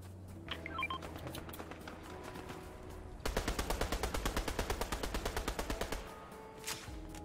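Bots firing in Fortnite: scattered game sounds, then a loud rapid automatic burst with evenly spaced shots for about three seconds before it cuts off and a few faint sounds trail after.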